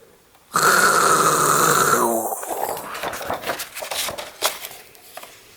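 A lion gives one loud, long roar close up in a storybook reading, fading into softer rumbling grunts.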